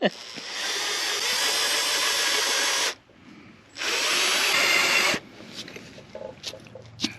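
Two long bursts of a power drill grinding into metal on a 1939 Caterpillar D4 radiator, loud and close, separated by a short pause, followed by quieter scraping and clinks.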